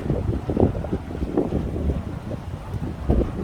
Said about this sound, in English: I'm enjoying the wind.